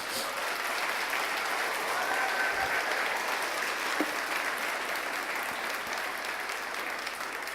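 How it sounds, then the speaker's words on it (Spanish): A church congregation applauds during a Spanish-language sermon, a sustained wash of clapping that holds steady throughout, with a faint murmur of voices beneath it. "Denle un aplauso al Señor por ello"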